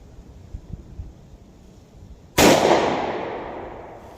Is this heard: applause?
no